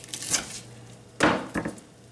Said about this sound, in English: They can withstand working the knife a little aggressively.